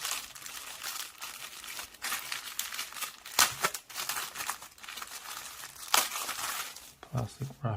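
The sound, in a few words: crinkling plastic wrapping of phone case package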